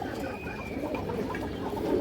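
Pigeon cooing close by, a low, soft, rolling murmur that runs continuously through a brief moment against light background noise.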